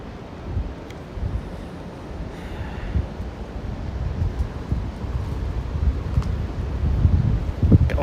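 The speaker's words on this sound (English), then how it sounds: "I think it just leaves blowing in the wind." Wind blowing leaves outdoors at night on a Williamsburg, Brooklyn street, a steady low rustling and rumbling gusts that swell slightly toward the end, with no voices.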